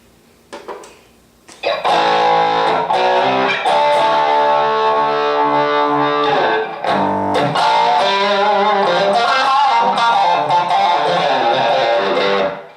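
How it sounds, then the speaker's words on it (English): An electric guitar played through a Four Force EM-1 distortion pedal, loud sustained chords and riffs with a thick, gritty buzz, close and continuous. "Here's just a distortion."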